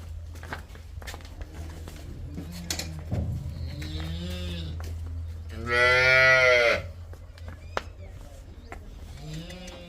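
Dairy cows on a farm moo several times, one long loud bellow standing out mid-clip, with shorter lowing calls around it and a steady low hum underneath.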